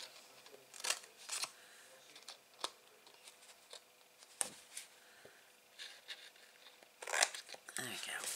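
Scissors snip small notches into the flaps of a paper gift box for note cards. Short, sharp cuts and light paper rustles come up close between stretches of quiet, with a voice talking in between.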